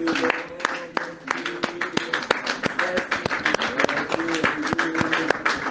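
A church congregation claps in a steady rhythm during a morning prayer service praising Jesus, with many sharp, fairly close hand claps running under a leader's voice.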